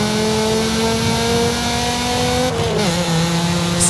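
An old Volvo estate car with no exhaust revs its stock engine in Forza Horizon 5, a loud steady drone that climbs in pitch and then drops as it shifts near the end.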